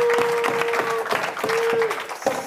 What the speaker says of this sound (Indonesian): Tepuk tangan buat Dustin.